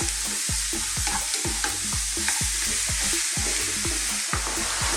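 Onions and meat sauce for lasagna cook over medium-high heat in a pan, a continuous loud sizzle broken by rhythmic scraping stirs, roughly two per second, close up.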